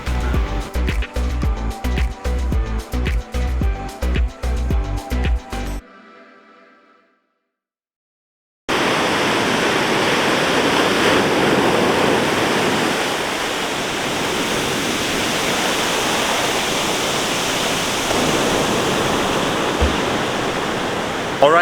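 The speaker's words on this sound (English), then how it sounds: "I am now here at the beach, and it's fairly early in the morning" Waves at a beach in the early morning make a steady, broad rushing wash that fills the second half after a burst of rhythmic music and a short silence.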